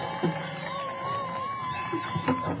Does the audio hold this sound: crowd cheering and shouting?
yes